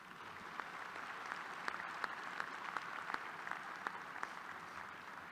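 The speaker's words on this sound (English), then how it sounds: "Would you please join me in giving each of those three a round of applause?" Quiet, distant round of applause from a university fall commencement audience, a thin steady patter of clapping with a few sharper individual claps standing out, lasting several seconds.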